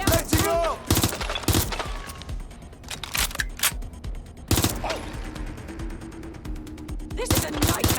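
Rapid bursts of gunfire erupt in the Watch Dogs Legion video game, with loud clustered volleys at the start and again midway, separated by quieter stretches of combat ambience.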